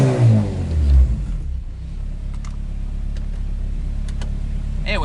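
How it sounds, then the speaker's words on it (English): A car engine hums and rumbles steadily from inside the cabin through a Skunk2 Megapower RR aftermarket exhaust, with a throaty exhaust tone swelling briefly at the start, then settling into a low drone. "let you hear how the car sounds with the new exhaust from inside the car"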